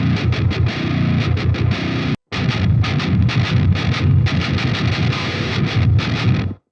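Baritone guitar pitch-shifted down to -11, now run through added effects, chugging distorted palm-muted riffs in a fast, steady rhythm, loud and close, with a brief gap before the riff resumes.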